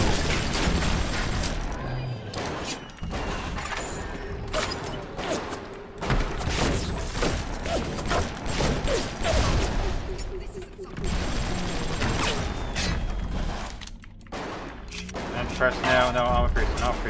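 Gunfire and explosions in BioShock Remastered combat, dense bursts of shotgun blasts and grenade booms over a busy game soundscape, loud and nearly continuous, with a player voice talking over the action.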